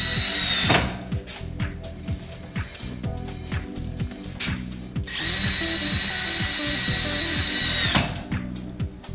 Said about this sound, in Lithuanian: Gipso kartono plokštes priglaudžiame prie karkaso ir varžtais pritvirtiname prie metalinių profilių.